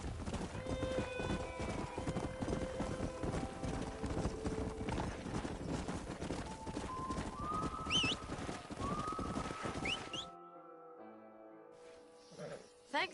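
In the Red Dead Redemption video game on PS5, a stallion's hooves clip-clop at a steady walking rhythm, close and clear, with a whinny and faint birds, before the hoofbeats give way to near silence.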